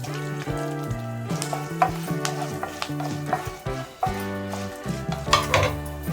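Curry leaves and cumin go into hot oil for a capsicum and coconut fry, giving a sizzle under a busy stretch of metal clinks and scraping from stirring in the pan, with a tonal hum running through.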